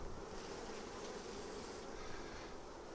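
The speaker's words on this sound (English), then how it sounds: "There's still a lot of bees in this hive." A dense, steady buzz of many honey bees in a crowded hive, a continuous droning hum filling the whole stretch with no voices, fairly even in loudness.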